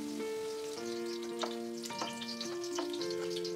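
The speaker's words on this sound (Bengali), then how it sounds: "তেল গরম হওয়ার পর আমি এই পনিরের কিউবগুলোকে 2 ভাগে ভেজে নিচ্ছি" Paneer cubes fry in hot oil in a pan over medium heat, a continuous soft sizzle and crackle with occasional stirring clinks, close and steady, with no talking.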